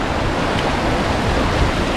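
Waves wash back out on the beach at Goolwa during cockling, a continuous broad rushing surf that is steady and loud, with no voices.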